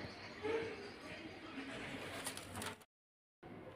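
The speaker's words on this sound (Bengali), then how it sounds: "এটা হচ্ছে মাদি পায়রা, এটা হচ্ছে নর পায়রা" Pigeons, a female and a male shown for sale, coo faintly in a loft amid quiet background noise, with brief clicks, a short dropout of silence near the end, and no clear talk.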